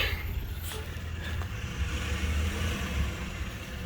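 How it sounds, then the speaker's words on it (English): A tow truck's engine rumbles steadily nearby as it arrives, a low continuous drone with faint higher road noise above it. "There's the tow truck."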